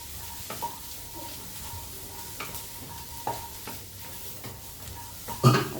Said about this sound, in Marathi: ही मका मी भाजत आहे.